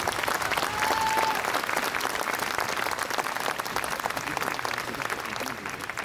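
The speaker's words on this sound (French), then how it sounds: "Elisabeth Badinter, je sais qu'elle est là, elle est avec nous, vous pouvez l'applaudir." A large audience applauds steadily and loudly at a French public event in support of a jailed writer. The clapping holds at an even intensity throughout, with crowd noise mixed in.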